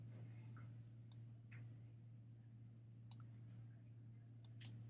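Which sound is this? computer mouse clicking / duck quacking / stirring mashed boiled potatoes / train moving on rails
computer mouse clicking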